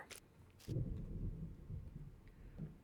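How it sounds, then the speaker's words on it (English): Thunder in the survival video game SCUM, a low, muffled rumble that swells and rolls on for a couple of seconds after a few brief clicks. "I don't know if you guys heard that, but it's thundering here."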